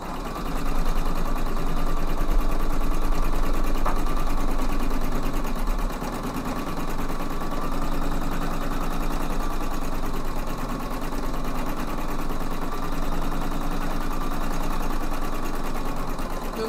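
Embroidery machine stitching a satin stitch pattern, a steady mechanical hum with fast needle rhythm running continuously and fairly loud, no talking.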